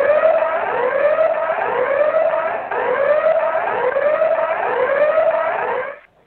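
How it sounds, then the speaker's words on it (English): A loud, repeating rising wail from the Sellafield nuclear site criticality alarm, like a siren sweeping up over and over in a steady cycle, continuous for several seconds before cutting off. "That was the criticality alarm."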